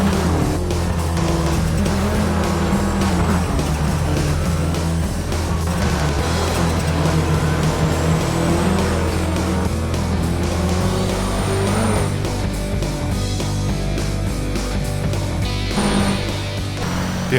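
Rally car engine from Colin McRae DiRT (2007) on PC, a loud continuous roar that rises and falls with gear changes, gravel and dirt spray, and occasional tire scrabble, with no talk.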